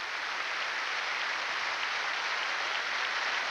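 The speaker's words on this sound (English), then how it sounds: "worthy of a great round of applause" Spectators at the 2001 French Open women's singles final clap loudly and steadily in a sustained, even wash of applause that fills the stadium.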